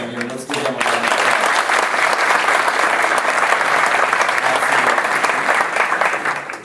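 A gala audience breaks into a round of applause for longtime patrons and volunteers, with a brief voice at the start before dense, steady clapping from a large crowd holds loud and even to the end.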